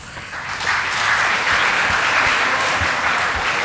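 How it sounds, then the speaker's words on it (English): A lecture audience at an endowment lecture breaks into sustained applause, which swells over the first second and then holds as a loud, dense wash of clapping. "thank you for that wonderful applause"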